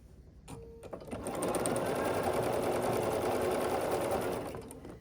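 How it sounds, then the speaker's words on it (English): A sewing machine stitches quilt block pieces, a strip joined to a center square, starting after a brief click and then running in one steady, close burst of about three seconds before slowing to a stop. "we'll sew the strip piece to the center square"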